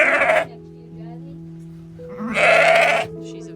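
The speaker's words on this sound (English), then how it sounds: "Sheep. Lambs coming everywhere." A ewe with a newborn lamb bleats loudly and nearby, two separate calls with a short gap between them, set against a low steady background hum.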